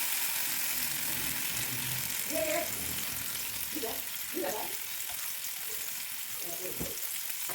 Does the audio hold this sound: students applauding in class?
no